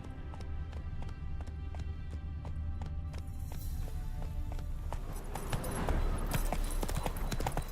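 Roach, the horse from The Witcher 3, clip-clops in an even, close rhythm that quickens into a faster run, hooves striking clearly with no talk.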